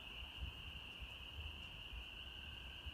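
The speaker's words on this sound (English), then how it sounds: "You can hear the tree frogs singing" Tree frogs trill steadily at night in a continuous high-pitched chorus, faint and distant, with a low background rumble and no voices.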